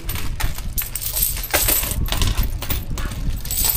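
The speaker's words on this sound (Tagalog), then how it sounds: "Tanong ko Kuya Noli, gano'n mo katagal ito inipon, itong mga barya na to?" Piles of saved coins pour and jingle continuously, a dense close metallic clatter with scattered clinks and no voices.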